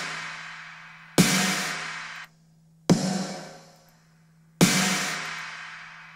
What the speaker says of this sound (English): we also have a real snare drum sounding like this together.